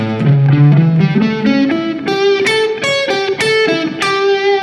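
A distorted electric guitar plays a slow minor pentatonic line with each minor third bent a half step up, notes bending and sliding upward, sustained tones ringing one after another, loud and alone.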